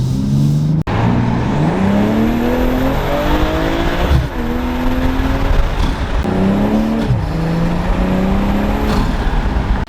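A BMW M240i fitted with a DINAN cold air intake, its engine revving loudly and repeatedly toward the 7,000 RPM redline, with rising and falling pitch and brief drops between pulls.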